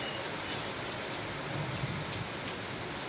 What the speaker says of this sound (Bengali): মোটামুটি সব জায়গায় বৃষ্টি হয়ে শুরু হয়ে গেছে